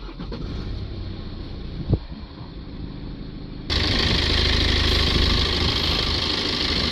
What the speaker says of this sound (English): then we'll start the engine and put the rest in